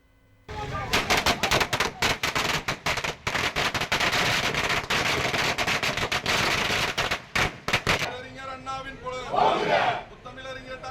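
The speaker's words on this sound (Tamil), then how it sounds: "திமுகவினர் பட்டாசு வெடித்து இனிப்புகள் வழங்கி உற்சாக கொண்டாட்டத்தில் ஈடுபட்டனர்" Firecrackers bursting at a DMK party celebration, a long, loud string of rapid cracks and pops for about eight seconds, then a crowd cheering and shouting as the bursts stop.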